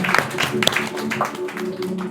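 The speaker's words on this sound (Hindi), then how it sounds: "एक जुड़े ताली हो जाओ जिसुर कारणे" A church congregation applauding during a Sunday service, a moderate patter of many hands clapping over a low hum, with a voice speaking at times.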